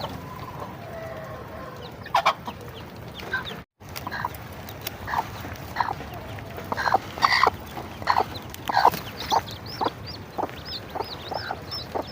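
A native hen clucks repeatedly near freshly hatched chicks, with a steady run of close, moderately loud clucks and faint peeping, some chatter, and a brief rustle partway through.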